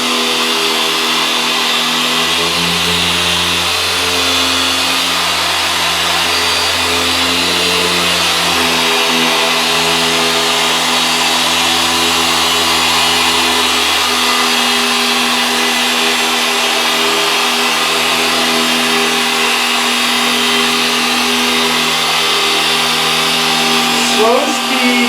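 A rotary polisher runs at slow speed with its pad pressed hard against a surface, a loud continuous motor whine with shifting hum as pressure changes, under someone talking.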